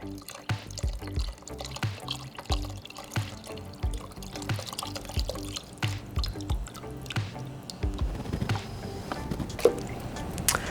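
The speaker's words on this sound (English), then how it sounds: "I'm gonna pour all of it in, and we're gonna let this come to a boil" Vegetable stock pours into a soup pot for minestrone, with a run of uneven dripping and splashing, close and moderately loud, heard alone with no talking.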